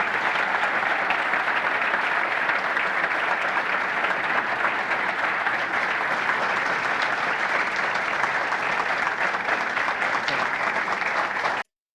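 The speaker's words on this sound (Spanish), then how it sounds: "un aplauso por favor para el ministro de Economía." An audience applauds the Argentine economy minister at a live event, a steady, dense wash of clapping that holds at full strength for about twelve seconds, with no talk over it.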